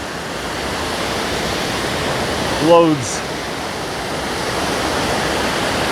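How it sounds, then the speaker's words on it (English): A massive waterfall at Choke Creek Falls in Pinchot State Forest, Pennsylvania, roaring as a steady broad rush throughout, with a brief spoken word briefly rising over it near the middle. "Again, just a massive waterfall."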